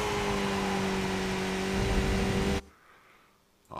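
A Skip Barber race car in iRacing at Spa holds a steady, high engine whine at full throttle. The note stays loud and even, then cuts off abruptly near the end.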